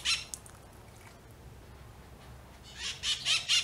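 A bird calls outdoors, with a short chirp at the start and then a quick run of loud, shrill calls near the end, heard alone against quiet ambience.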